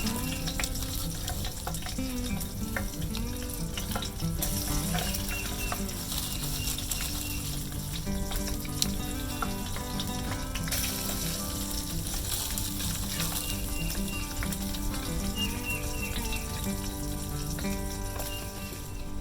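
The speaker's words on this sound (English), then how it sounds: "we'll go ahead and start getting these frying up" Mushrooms sizzle and crackle steadily in a hot pan, a continuous close frying hiss with occasional scrapes and taps.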